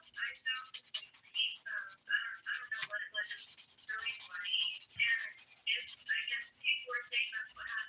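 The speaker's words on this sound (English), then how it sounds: "I'm using the 100 grit side of this sponge buffer." A 100 grit sponge buffer rubs back and forth over fingernails close up, a quiet rhythmic scratchy swishing in quick repeated strokes, faint and intimate with no talk.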